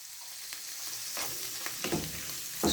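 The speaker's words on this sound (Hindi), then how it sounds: "चिकन हमारा फ्राई हो रहा है।" Boiled chicken pieces for spring roll filling sizzle and fry in a pan. A steady hiss is broken by several crackling bursts and stirring scrapes, with no voices.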